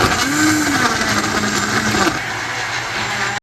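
Kitchen blender whirring steadily as it blends strawberries, banana, sugar and milk into a milkshake, a loud continuous motor drone with a brief tonal rise early on, running alone close by before cutting off at the end.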